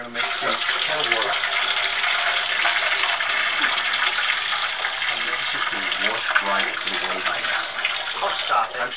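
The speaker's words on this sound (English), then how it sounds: "Now we're going to make some kettle water." Tap water gushing steadily into a kettle, a continuous splashing rush lasting throughout, with faint voices under it.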